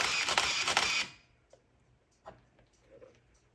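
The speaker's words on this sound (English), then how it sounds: "And then you press the first shutter button." Shutter release of a Nikon F-401x film SLR: a short, loud mechanical clatter of about one second, followed by faint clicks and whirs in a quiet room.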